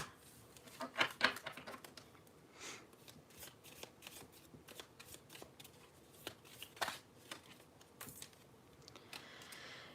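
Tarot cards are shuffled and drawn by hand in a quiet room, a soft papery riffle of flicks and taps that clusters into a brief burst, then continues as scattered light card slides and snaps.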